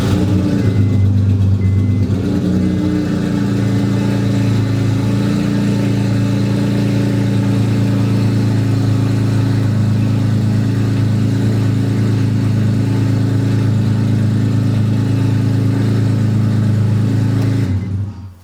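A Honda engine fitted with a custom-fabricated turbocharger runs loud and steady nearby, with a brief rev near the start and then an even idle drone that holds for the whole stretch before cutting off abruptly.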